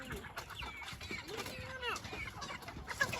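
A flock of fully grown chickens roaming a farm yard in the morning, with steady soft clucking and brief chirps from several birds close by, a few louder calls rising over the murmur.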